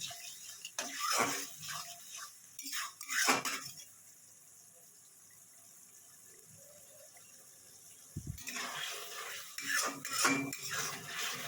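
Tangra fish being stirred and fried with salt in a pan, with metal utensil scrapes and clatter in bursts, a calmer sizzling stretch in the middle, then renewed clinking and scraping close by.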